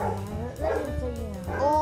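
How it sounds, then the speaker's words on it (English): A dog in the movie Bird Box barks and yips in short, sharp bursts with whimpering tones, heard close and clear. "There's a, there's a doggy."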